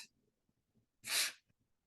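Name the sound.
sneeze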